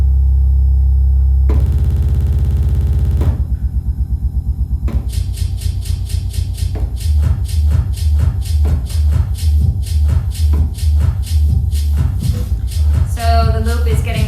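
Beat loop triggered from the pads of a DJ controller: a steady electronic beat with a heavy low thump repeating in tightening loops, the loop segments getting shorter and faster toward the end, loud and alone.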